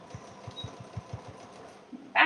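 A sewing machine backstitching the seam of a canvas tote, a quick run of rhythmic mechanical thumps at close range, followed by a brief sharp click at the end.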